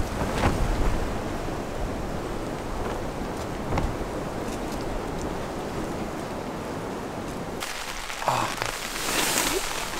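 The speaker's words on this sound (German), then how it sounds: "So, es hat wieder angefangen zu regnen, wie man hört." Steady rain falls outdoors at night, a dense even hiss across the whole stretch with a few louder gusts or splashes, and a brief shift in tone near the end.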